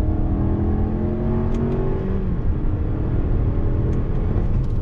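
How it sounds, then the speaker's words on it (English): A Lexus NX300 F Sport compact SUV accelerates in second gear under manual paddle shifting. The engine note is loud and close, a steady rising drone with whirring tones, and no one talks. "I took the shifter, put it over to the left, second gear, on throttle."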